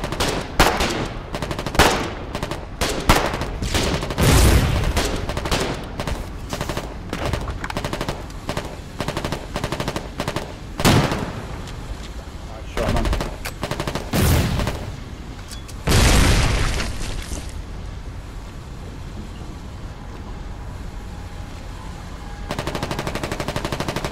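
Rapid bursts of machine-gun fire and scattered gunshots with occasional booms from the Foxhole war video game, loud and dense throughout with brief gaps.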